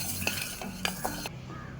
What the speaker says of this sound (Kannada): ಬಾಣಲಿಗೆ ನಾನು ಕೊತ್ತಂಬರಿ ಬೀಜ ಹಾಕ್ಕೊಳ್ತಾ ಇದ್ದೀನಿ.